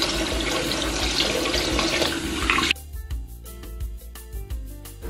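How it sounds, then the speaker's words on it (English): Steady loud rush of tap water running into a sink while a face is washed, a continuous broadband wash that cuts off abruptly partway through, leaving quieter trickling and faint clinks. "I'm going to"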